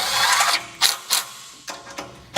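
Metal bolts being screwed in and tightened on a Ryder rack bolt rack mount give a hiss of handling followed by several sharp, separate ratcheting clicks spaced about half a second apart, close and clear with no talking.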